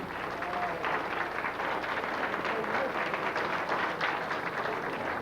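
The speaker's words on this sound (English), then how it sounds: "A round, please, of applause for Addie Seary." Sustained applause from an audience at a reunion gathering held at a winery, a dense steady wash of many hands clapping with some crowd noise and murmured voices mixed in, holding level for the whole stretch.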